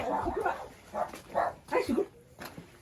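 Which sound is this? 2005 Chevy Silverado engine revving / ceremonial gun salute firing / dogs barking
dogs barking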